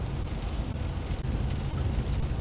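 Morning rain falls steadily around a truck stop beside open empty fields, a dense continuous wash of drops with no voices, close and fairly loud throughout.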